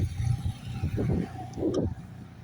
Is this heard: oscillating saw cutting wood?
no